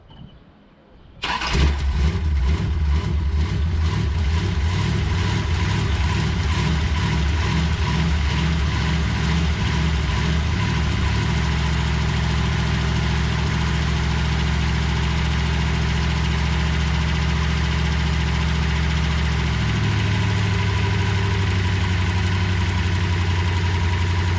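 A 1973 Plymouth Satellite big-block Six Pack V8 with a troublesome rear carburetor cranks, fires and settles into a loud, close, lumpy idle that drops slightly in pitch near the end.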